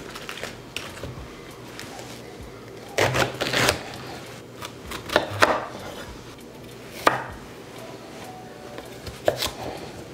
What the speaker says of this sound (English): We're preparing all of our vegetables.